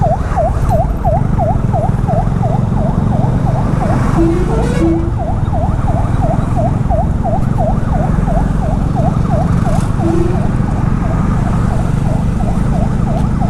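An ambulance siren wails in a steady rapid warble that carries through constant road and engine noise from a Dominar 400 motorcycle on the road, with a brief horn-like tone partway.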